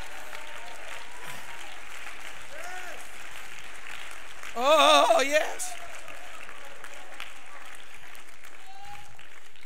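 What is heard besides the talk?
audience clapping hands at a church service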